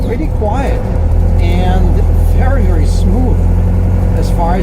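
A 1989 Land Rover Defender 110 engine drives in second gear, a steady low mechanical drone heard from inside the cab while a person talks over it.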